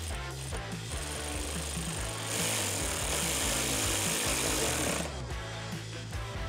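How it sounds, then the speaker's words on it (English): A T30 Torx socket on a power driver tightens the bolts of a Jeep Gladiator light, giving a rapid, rattling, hammer-like impact that continues loud and close for several seconds. "grab that T30 Torx socket and tighten it down"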